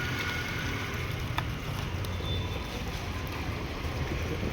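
A Chetak scooter runs with a steady, continuous low engine drone and broadband rumble, loud and unbroken throughout, with no talking.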